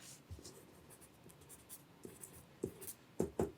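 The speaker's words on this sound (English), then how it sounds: "there's something about writing on a sheet" Pencil scratching across a sheet of paper in quiet, soft strokes, with a few firmer, louder scrapes toward the end; no one speaks.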